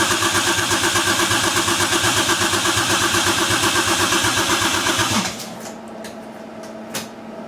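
A 1JZ engine in a Nissan 240SX S13 cranks steadily for about five seconds with a rapid, even starter rhythm but never fires. It then cuts off, leaving faint shop noise and a couple of light knocks.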